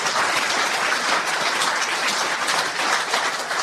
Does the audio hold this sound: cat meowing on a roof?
no